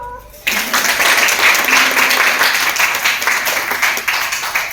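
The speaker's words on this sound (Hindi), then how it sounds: "समाज के लिए ताली बजाए।" Sustained applause from a crowd at a meeting, a dense wash of clapping that starts abruptly and continues steadily at a loud level.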